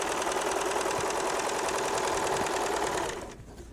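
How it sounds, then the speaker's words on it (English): A Baby Lock serger runs off the edge of the fabric, a loud steady mechanical whirr close by that winds down and stops near the end. "I sew off the edge."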